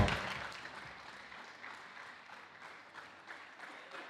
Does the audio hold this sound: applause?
yes